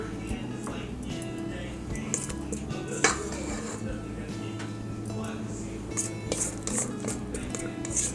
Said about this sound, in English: We're really going to scrape that bowl, all this goodness